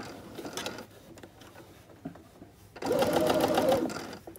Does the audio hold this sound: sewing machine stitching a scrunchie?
yes